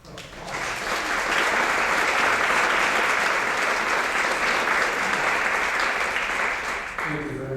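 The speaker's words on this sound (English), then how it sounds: "I'd like a round of applause for their efforts around." At a town deliberative session, a room full of people applauds, building quickly to a steady, full clapping that holds, then tapers off as a voice returns at the end.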